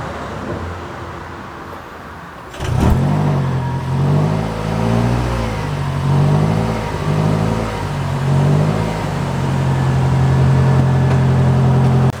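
A hybrid Ford Maverick makes a cold start: a quiet hum first, then a sudden thump as the engine catches and settles into a steady, droning idle with slight rises in pitch, close and loud.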